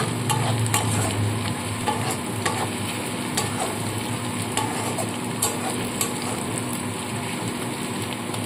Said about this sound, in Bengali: এবার এই তেলের মধ্যেই আমি পেঁয়াজ ভাজবো।